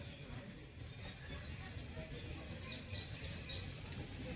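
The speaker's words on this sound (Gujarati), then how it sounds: "અવાજ સાંભળે પક્ષીઓ" Birds squawk repeatedly over a steady outdoor bed of crowd babble and distant traffic at Gandhi Ashram on the Sabarmati in the evening, the calls moderately loud and continuous throughout.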